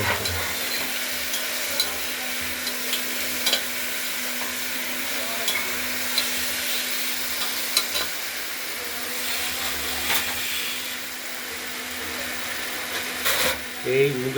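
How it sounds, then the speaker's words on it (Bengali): Moong dal frying in oil inside a pressure cooker, giving a steady close sizzle broken by scraping stirs and occasional clicks, with faint background sounds. "এবার একটু ভাজা ভাজা করে নেব ওই তেলের সঙ্গে তেল আর এই মুগের"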